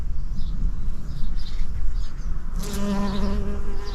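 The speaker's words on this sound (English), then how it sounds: "Bees certainly think so." Bees buzz steadily around a flowering Burgundy Wine Lavatera in a summer garden, a close, continuous insect drone, with a few faint bird chirps in the background.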